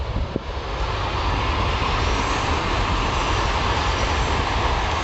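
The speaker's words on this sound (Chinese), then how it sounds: "东边台铁，那就是高铁。" High-speed rail train rushing past, a broad steady roar that holds at full strength for several seconds with no voices.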